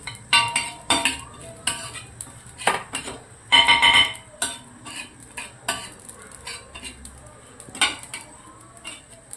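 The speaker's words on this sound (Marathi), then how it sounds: "आता आपण खसखस टाकून खसखस थोडी लालसर रंगावर भाजून घेऊ" Poppy seeds dry roasting in a pan for a black-masala mutton curry, stirred with a metal spoon that clinks and scrapes against the pan in irregular bursts, with a few louder clatters and no talking.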